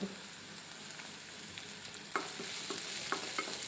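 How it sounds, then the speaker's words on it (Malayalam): Garlic, green chilli and curry leaves sauté in a hot pan, giving a steady close sizzle with a few sharper stirring scrapes in the second half. No voices. "അഞ്ചാറ് വെളുത്തുള്ളിയും ചതച്ചതും ഒരു പച്ചമുളക് നീളത്തിൽ കീറിയതും ചേർത്ത് വീണ്ടും വഴറ്റാം"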